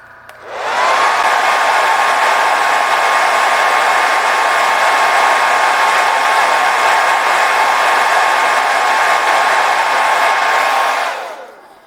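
Hair dryer blowing steadily and loudly for about ten seconds to dry a painted piece, switching on and off with a constant whine and rush of air.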